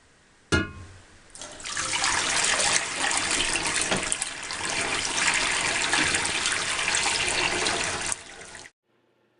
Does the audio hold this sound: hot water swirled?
yes